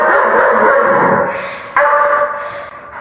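A dog barks in two close, loud bursts with whimpering yips, sounding near and alone without talk.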